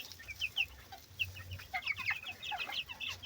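Speckled chickens give soft, scattered clucks and short chirpy calls close by in a quiet farmyard, with several birds murmuring at once.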